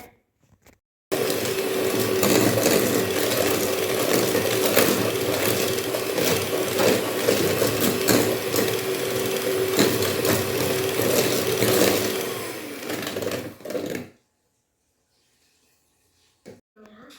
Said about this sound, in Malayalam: കുറേശ്ശെ ആയിട്ട് ഇട്ട് കൊടുത്തിട്ട് നന്നായിട്ടൊന്ന് ബീറ്റ് ചെയ്തെടുക്കാം.